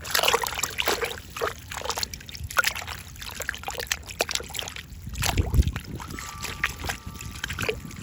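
Foraged wild onions are swished and rinsed in water, giving irregular close sloshing, trickling and dribbling sounds with light knocks throughout, no talking.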